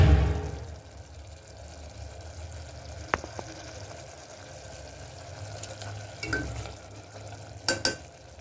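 Mushroom semi gravy simmers in a pan on the stove with a soft steady bubbling hiss, broken by a few sharp clicks and scrapes of a spoon stirring near the end.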